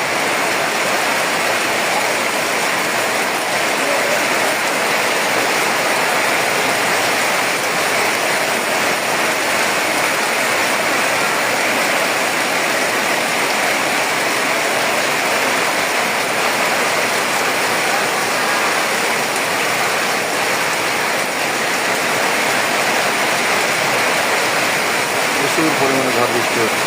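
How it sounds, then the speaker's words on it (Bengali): Heavy storm rain driven by strong wind, a loud, unbroken roar of pouring water and gusts that holds steady throughout, with no clear voices. "প্রচুর পরিমাণে ঝড় বৃষ্টি হচ্ছে।"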